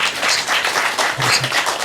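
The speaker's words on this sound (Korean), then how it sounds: "박수하겠습니다" Brief congregation applause during a church service, a dense burst of many hands clapping, close and fairly loud, with a faint voice underneath.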